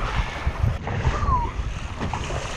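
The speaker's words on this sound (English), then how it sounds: "we're gonna get beat up here by the wind and the waves" Gusting wind and breaking sea waves roar steadily around a fishing kayak offshore, loud and close with heavy wind buffeting on the microphone throughout.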